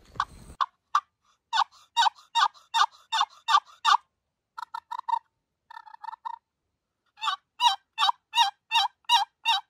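Repeated turkey calls in bursts of rapid yelps, loud and close, with a quieter softer series in the middle and no talking, made on a fall turkey hunt in California.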